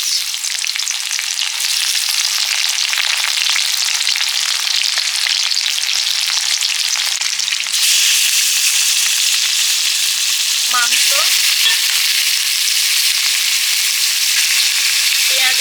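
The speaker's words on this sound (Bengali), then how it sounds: "মুরগির মাংসটা কষে নেব" Loud, continuous sizzling of chicken frying with onions, dried chillies, bay leaves and whole cumin in a hot pan, close and steady, with occasional faint scraping.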